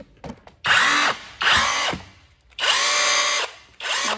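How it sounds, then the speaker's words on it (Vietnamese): A DCA cordless rotary hammer drilling into concrete, heard up close in four loud bursts of high-pitched hammering whine separated by short pauses. "Đó, chức năng khoan bê tông này"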